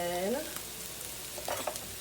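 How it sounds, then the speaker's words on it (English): Shrimp fried rice with garlic chili sizzles and crackles in a hot pan while being stirred, soft frying hiss with a few scraping stir sounds and a brief tonal squeal at the start, no talk. "we're going to stir it up"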